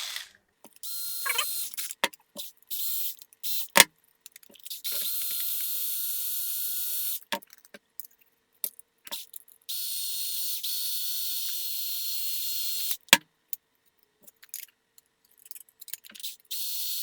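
Small screws being driven by hand into 3D printed plastic rudder pieces for an RC airboat, giving intermittent ticking, ratcheting bursts with short pauses between turns, close up and with no talking.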